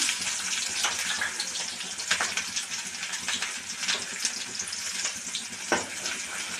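Chopped onions sautéing in hot oil with cumin for a brinjal curry make a continuous bright sizzle up close, broken now and then by stirring scrapes, with no talking.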